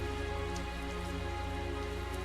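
Steady rain falls in the video game Tales of Zestiria, a constant dense patter with an even low hum underneath and no talking.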